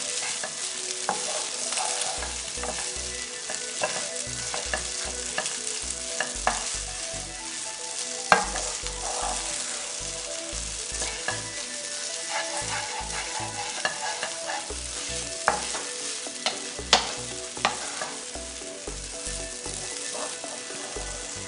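Egg noodles tossed and stirred in a hot frying pan with lemon, a steady close sizzle punctuated by repeated rhythmic scraping and clattering of the utensil against the pan, no voices.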